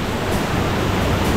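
A waterfall in Mindo, Ecuador roars as a loud, steady, unbroken rush of falling water, close and filling the whole scene.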